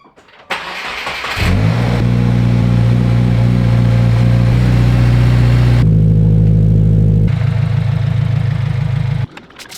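A Subaru WRX STI fitted with Brembo six-piston front brakes starts up and idles loud and close, then revs and settles into a steady engine note as it is driven out of a garage, with no talk.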